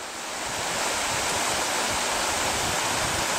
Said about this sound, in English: that's some pretty fast moving water